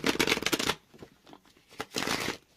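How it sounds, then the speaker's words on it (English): Tarot cards riffle and rustle in two quick bursts of shuffling, close and crisp, with a softer pause between them. "Why am I having such trouble shuffling like this?"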